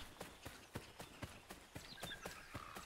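Horse hooves clip-clopping in Assassin's Creed 3, a steady run of about a dozen sharp, evenly spaced hoof strikes, fairly close and clear with no talk over them.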